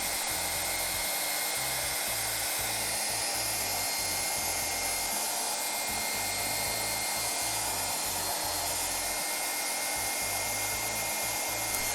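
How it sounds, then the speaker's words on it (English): A hair dryer runs steadily at close range, a continuous broadband whir with a low pulsing hum underneath, unbroken for the whole stretch with no voices. "Oh, and I also used this hair dryer when I was in college"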